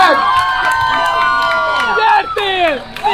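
A loud crowd at a drift event cheering and shouting with high excited voices, a dense roar filling the space, with applause mixed underneath.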